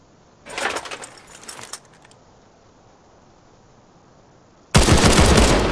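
Gunfire in a video game arrives as two short rattling bursts near the start, followed by near silence and then a loud sustained blast of noise at the end.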